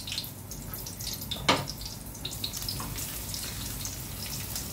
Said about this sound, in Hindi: लहसुन को ज़रा तड़कने देंगे अच्छे से